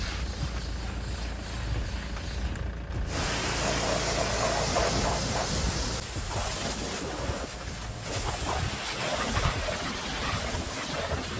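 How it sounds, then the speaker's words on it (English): A pressure washer sprays detergent and water to blast barn dust off a solar red Rover 25 Commerce van, a continuous loud hissing rush with brief breaks where the spray cuts out and restarts. "lent me his pressure washer and some detergent so I could get all of that barn dust off the Commerce"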